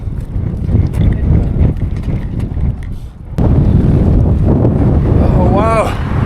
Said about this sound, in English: This wind is so insane!